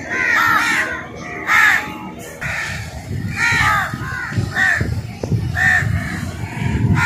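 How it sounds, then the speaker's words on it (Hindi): Crows cawing near a seaside hotel front in Karachi, repeated harsh caws in quick bursts, close and loud over a soft outdoor background. "कौओं की काएं काएं और बर्ड्स की चहचहाने की आवाज़ बहुत ही भली महसूस"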